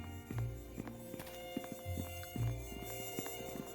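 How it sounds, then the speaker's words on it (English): Mosquitoes buzz in the fantasy role-playing game Neverwinter Nights 2: Enhanced Edition, a thin whining drone that swells and fades in repeated passes over a low game ambience, with no one speaking. "Oh, that's mosquito sounds."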